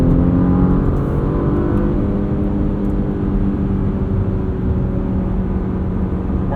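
A 2022 Porsche Macan S with a PDK gearbox is driven in sport mode, its engine giving a loud, steady low drone with harmonic hum from inside the cabin, holding gear without any sharp shifts.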